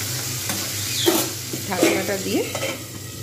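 Green chillies and tomatoes fry in a pan for rohu fish curry with radish, a close sizzle under brisk stirring scrapes and a couple of utensil clinks.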